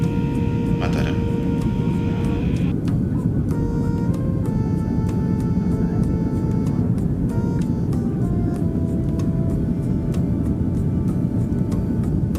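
Inside an airliner descending toward Lombok International Airport, a constant loud engine and cabin roar fills the space, with faint steady tones running over the rumble.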